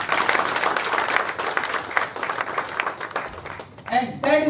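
Audience applause in a hall after a talk on gratitude, dense steady clapping for about four seconds, then a voice speaking over the fading claps near the end.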